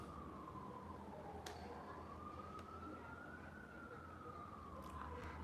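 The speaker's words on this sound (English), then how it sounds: "I hope this siren ain't getting on your nerves as it's getting on mine." A siren wails steadily outside, a long slow rising and falling tone that runs the whole time at moderate distance under a low hum, with a couple of brief clicks.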